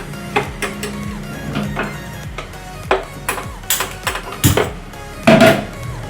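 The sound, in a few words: stirring rasam with tamarind water in a pot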